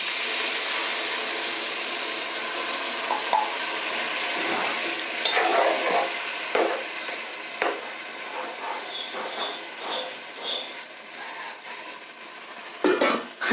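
Goat meat simmering in a pot after hot water is poured in, a steady soft sizzle and bubble with occasional scrapes and clinks of a spoon stirring against the pan.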